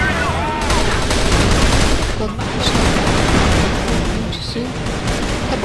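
Gunfire in the video game CrossFire, a dense stream of rapid shots and bursts that is loud and continuous, with a voice talking over it.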